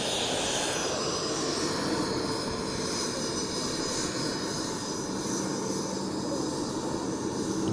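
Aircraft carrying Ghana's president approaching on arrival in Sierra Leone, a steady broadband engine roar that holds loud and constant throughout with no voices.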